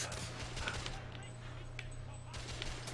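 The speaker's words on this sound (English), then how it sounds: "Press R2 to fire my weapon." Gunfire in a video game's alternate-history shooter, a steady rattle of shots and bursts at moderate distance mixed with a low drone, and faint voices underneath.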